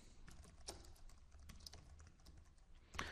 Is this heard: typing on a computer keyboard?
yes